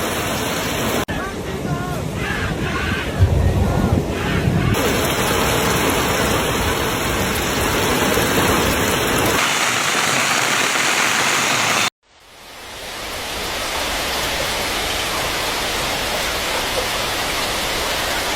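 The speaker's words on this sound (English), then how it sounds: "The rain came out of nowhere, and it came down hard." Heavy rain pounds down during a violent storm flooding Zhengzhou, the capital of Henan province, a dense steady roar that runs throughout, cuts out abruptly near the twelve-second mark and quickly swells back to full force.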